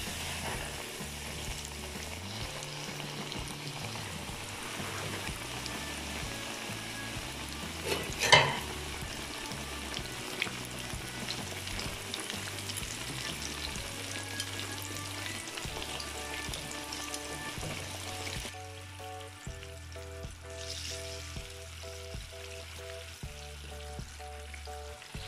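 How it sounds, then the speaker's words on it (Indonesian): Eggplant deep-frying in hot oil, a close, continuous bubbling sizzle with one sharp clatter partway through; the frying thins and quiets over the last few seconds. "di sini udah ada minyak panas ya guys, kita mulai digoreng"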